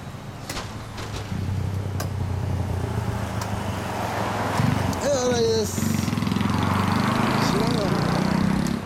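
A 2013 Honda Grom motorcycle fitted with a Tsukigi Racing muffler runs steadily throughout, its low engine drone continuous and fairly close, with a brief higher whine around the middle and people talking over it.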